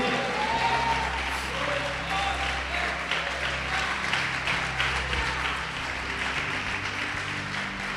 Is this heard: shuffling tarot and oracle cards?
no